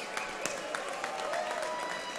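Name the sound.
audience applause at a boxing event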